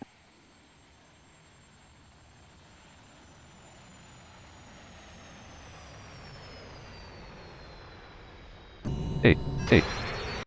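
Aircraft passing overhead, a steady engine drone slowly swelling and fading with a whining tone drifting lower, then louder clicks and a short spoken word near the end.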